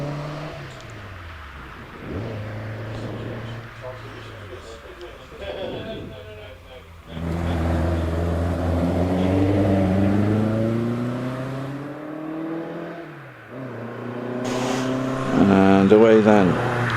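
A Westfield sports car accelerates up the Prescott hillclimb course in a Midland Championship event, its engine rising and falling through gear changes as it passes, loud and near, while a commentator talks over it.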